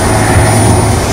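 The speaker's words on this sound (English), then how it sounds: "Stealth chopper inbound." A stealth chopper in a video game: a loud, steady aircraft roar with a low rotor-like throb, close and continuous, with no voices.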